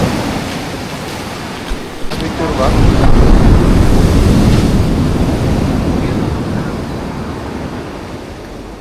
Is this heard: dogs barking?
no